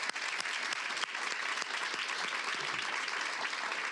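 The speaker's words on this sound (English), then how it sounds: "If we can give them a round of applause." A full round of applause from a crowd at a Nashville school district celebration honoring the Nashville 16, dense steady clapping throughout at even loudness, with no voices over it.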